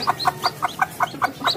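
Newly hatched serama chicks peep in a quick, regular series of about eight high chirps, close and clear, with no talk over them.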